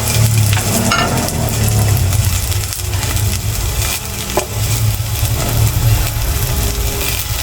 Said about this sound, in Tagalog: Gigisa na natin itong sibuyas at saka bawang.